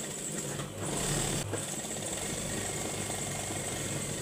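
A sewing machine runs steadily while stitching a six-panel round-neck dress, a continuous close mechanical hum and rattle with a brief dip partway through.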